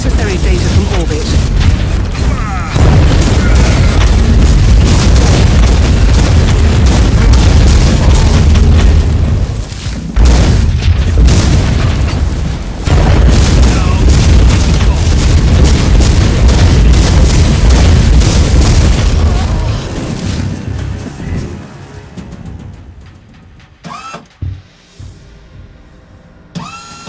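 Video game explosions blast artillery pieces and a bunker, a sustained, loud booming roar with rumbling debris and mechanical clatter that fades into scattered pops at the end.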